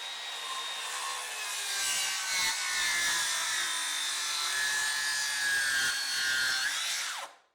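Makita 36V rear-handle circular saw cuts through treated 6x6 lumber, a loud sustained whine with blade rasp lasting about seven seconds before spinning down abruptly.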